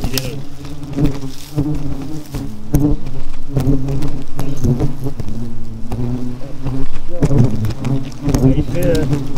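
Asian hornets buzzing around their nest, a loud, close, continuous swarm drone with individual insects flitting past, while people talk over it.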